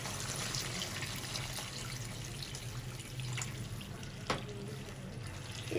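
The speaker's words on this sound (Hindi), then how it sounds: "2 गिलास पानी डालेंगे।" Two glasses of water pour steadily into a cooking pot of meat and whole tomatoes for arvi gosht, making a soft, continuous splashing rush at low volume with no talking.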